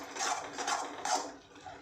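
Almond halwa is stirred and roasted in a pan, giving soft, close scraping and rubbing strokes in a quick rhythm of three or four passes, faint and alone.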